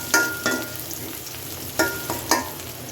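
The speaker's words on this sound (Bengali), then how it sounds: "তারপর পেঁয়াজ দিয়ে একটু তেল দিলাম।" Onions frying in oil with two white cardamom pods, stirred in a pan, with a steady soft sizzle broken by a few sharp scraping stir strokes.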